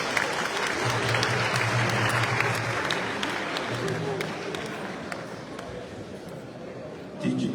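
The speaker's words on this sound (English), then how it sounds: "Please let the applause keep going as they come on stage." Loud, continuous audience applause rolls on at a book launch as performers take the stage, a dense crowd clapping steadily for several seconds with some voices and crowd noise mixed in.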